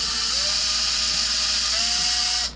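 A small drill whines steadily as it bores a bolt hole through a Traxxas Bandit RC car body, its pitch shifting slightly partway through before the motor cuts off abruptly near the end.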